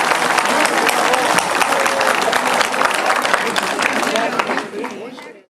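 An audience applauds at a Greek concert tribute, loud sustained clapping mixed with crowd noise and some voices, fading out at the very end.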